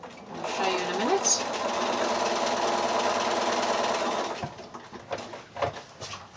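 A sewing machine runs steadily for about four seconds while chain-piecing a quilt seam for a Churn Dash block from 2½-inch fabric squares, a close continuous whirr that then stops, leaving soft handling noises.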